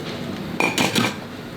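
Forks and spoons clink against dishes at a meal of noodles made with imitation meat, a couple of quick close metallic taps in the middle, otherwise near silence.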